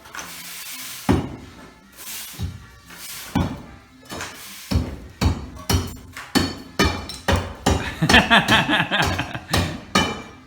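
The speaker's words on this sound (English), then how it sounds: "Julio's going to do it the smart way with a crowbar." A crowbar prying old bricks out of a bricked-up door in the back of an old town jail: a series of sharp metallic knocks and scraping clunks, irregular at first, then coming in a quick close rhythm, with bricks grating loose.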